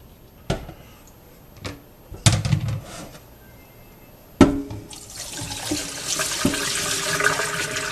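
Milky, starchy rinse water from kneaded seitan dough pours into a colander, a steady splashing rush of liquid after a few scattered knocks and clatters from the bowl.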